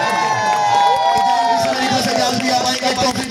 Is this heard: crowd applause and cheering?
yes